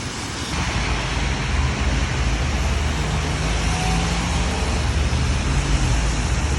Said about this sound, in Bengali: এই যে গাড়িগুলো দেখতেছেন সবাই নিজ নিজ কর্মস্থলে যাচ্ছে।